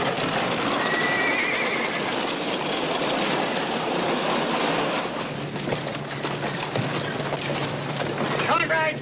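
Spooked horses neigh in a loud whinny over a dense, busy background of hooves and rumbling motion, with people talking at the same time.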